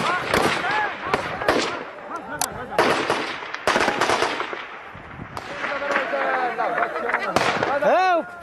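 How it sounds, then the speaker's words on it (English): Machine guns fire in a fight at Qala-i-Jangi fortress in Afghanistan, sounding as dense, repeated bangs and rattling bursts close by. People shout and speak over the shooting throughout. "There's the muffled sound of machine guns, the ground shaking."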